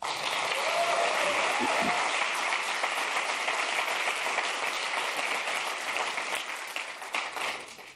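Keynote audience applause at a Visual Studio 2015 launch event, a large crowd clapping steadily in a broad, sustained roar that holds for several seconds before tapering off at the end.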